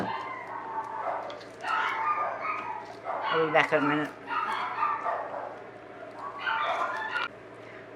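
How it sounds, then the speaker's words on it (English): Dogs barking indoors in a home craft room: repeated bursts of barking, moderately close, with an alarm sounding and a person speaking over it. "that's my dogs"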